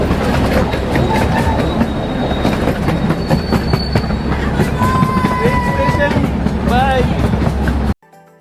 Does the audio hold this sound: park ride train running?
yes